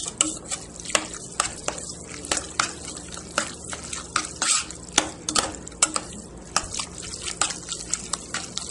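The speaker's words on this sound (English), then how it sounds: "Now I'm going to keep on mixing it until it comes out just right." A spoon stirs macaroni and cheese in a pot with a steady rhythm of scraping clinks and soft wet squelches, close and fairly quiet, with no talking.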